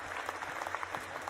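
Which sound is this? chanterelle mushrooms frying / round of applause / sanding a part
round of applause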